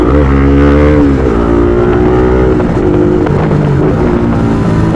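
A Bajaj NS200 BS6 motorcycle fitted with an Akrapovic R1M exhaust revs loudly up close, its deep droning note climbing, dropping and climbing again through repeated throttle blips with a raspy exhaust edge.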